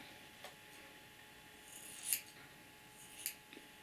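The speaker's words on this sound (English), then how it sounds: "You point the scissors towards your neck like a real professional." Soft snips of scissors cutting hair close by, two or three brief crisp cuts against quiet background hiss.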